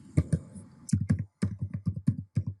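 Typing on a computer keyboard, a close series of crisp, irregular key taps arriving in short clusters, with no voice over them.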